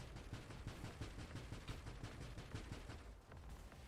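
Mines blowing up in the space shooter Nova Drift, a continuous crackle of small rapid explosions and shots at low level, steady throughout with no talk.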